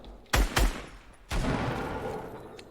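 Two close, loud tactical shotgun blasts from Fortnite gameplay, a quick double boom, followed after a pause by a third heavy shot with a long reverberant tail.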